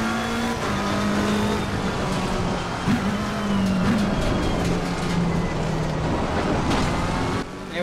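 A race car engine in the sim racing game Assetto Corsa Competizione, on the Conrod straight behind a Mercedes, droning loud and steady with a sustained high whine that wavers slightly in pitch throughout.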